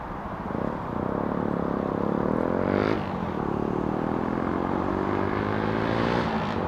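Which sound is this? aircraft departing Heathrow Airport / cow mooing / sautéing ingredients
aircraft departing Heathrow Airport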